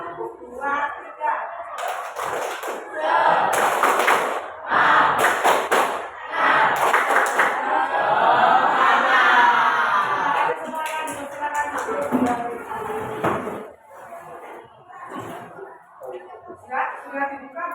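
A classroom of students performs a rhythmic spirit clap together, bursts of loud group clapping in a patterned beat with voices chanting and calling out between the claps.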